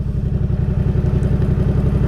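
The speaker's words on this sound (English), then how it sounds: "I can hear the engine noise is getting more slow" A steady, close car engine rumble with a regular low throbbing pulse as revs drop at the clutch biting point, running evenly with no voices.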